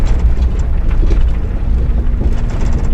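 A vehicle engine idling at slow speed on a drive to a rifle match, a low rumbling drone with road and wind noise, steady and close.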